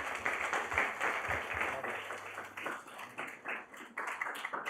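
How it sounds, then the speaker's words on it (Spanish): Seminar audience clapping for a panel on gender equity in mining, a moderate patter of many hands that swells and fades over several seconds, heard from the room at middling distance. "Un aplauso para los panelistas."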